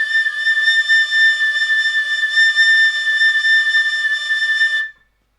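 A penny whistle plays one long sustained note, steady and clear at close range, for about five seconds before stopping abruptly into silence.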